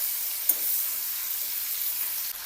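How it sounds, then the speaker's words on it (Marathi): Potato and drumstick pieces sizzle steadily in hot oil in a pan, close by, with a brief clink of a utensil near the start. "बटाटे आणि शेंगा फ्राय झाले आहेत"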